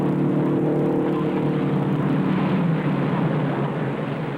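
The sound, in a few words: race cars on the final lap of the 1958 Indianapolis 500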